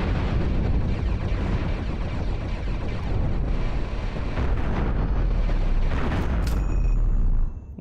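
Missile explosions in the spaceship battle game Cosmoteer, a sustained, rumbling barrage of loud booms blending into one heavy roar, with a sharper crack near the end.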